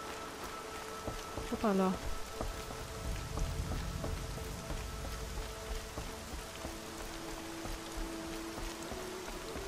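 Steady patter of rain in the video game Horizon Zero Dawn fills the scene, with a voice briefly exclaiming over it and low rumbling beneath.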